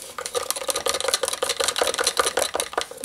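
Silver acrylic paint being stirred in a cup for acrylic pouring, a steady run of close, quick scraping and clinking strokes with no talk.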